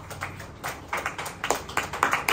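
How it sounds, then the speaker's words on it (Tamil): A church congregation clapping hands in worship, a quiet, uneven patter of claps that starts sparse and grows a little denser and quicker, heard from a short distance. "கைத்தட்டி ஆண்டவரை நல்ல மகிமைப்படுத்தும்."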